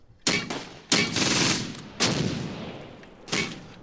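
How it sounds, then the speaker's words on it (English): Artillery fire in a WWII strategy game set around Caen with the 12th SS motorized assault: four heavy booming impacts at irregular intervals, each with a long rumbling tail, loud and close with no talk. "still some more artillery fire coming in"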